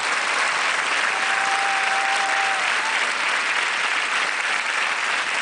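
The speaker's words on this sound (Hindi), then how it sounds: "जोरदार तालियां बज जाए इनके लिए।" A studio audience on a televised quiz show applauds loudly and steadily, a dense wash of clapping that holds at an even level from start to finish with no talk over it.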